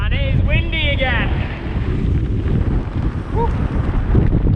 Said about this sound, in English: and it is windy again.